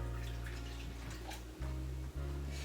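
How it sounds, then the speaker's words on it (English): Water poured into reptile water bowls during enclosure maintenance, a steady low splashing pour with a couple of brief breaks as it is topped up, heard close and fairly quiet with no talking. "I'm just going to quickly top up these water bowls before I forget"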